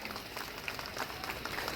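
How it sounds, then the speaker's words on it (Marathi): Applause from an audience at a naming ceremony, a dense wash of claps that holds steady throughout at moderate distance. "जोरदार टाळ्या वाजवूया."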